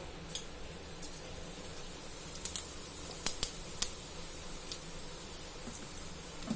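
Cumin seeds sizzle in hot oil in a kadhai, a steady hiss broken by scattered sharp crackles and pops, close by with no talking.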